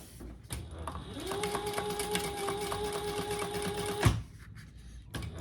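A sewing machine top stitches a seam on a shoulder bag panel, running in one steady whirring burst of about three seconds before stopping with a thunk, close and loud, with faint room noise around it.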